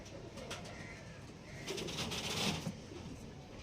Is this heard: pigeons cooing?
yes